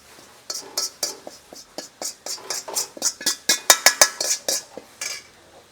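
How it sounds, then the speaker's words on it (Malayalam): A spoon stirs spiced masala with chili powder, garam masala and chicken masala in a metal cooking pot at a rustic village eatery, making a rapid, steady run of loud, close scraping clanks, roughly two or three strokes per second. "ഇനി ഇത് ഇളക്കട്ടാ"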